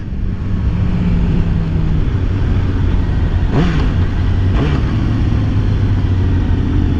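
A 2018 Suzuki GSX-S750 motorcycle on a demo ride, its engine droning loudly under heavy wind rush with two brief rises in engine note, likely from downshifts, midway through.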